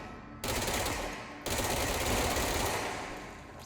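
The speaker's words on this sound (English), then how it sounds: "So it's basically an SMG." SMG fire in the video game Control, two sustained automatic bursts of rapid shots, loud and close, the second burst longer and fading slightly toward the end, with no talking.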